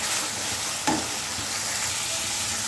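Spice paste frying in a pan for an egg curry with pumpkin and potato, a constant close sizzle with one sharp scrape of a spatula stirring near the middle, no voices present.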